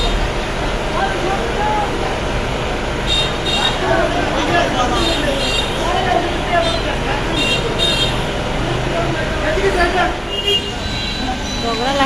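Road traffic with cars and buses, a continuous roadside rumble with occasional horn toots and passing engines, heard close beneath steady conversation.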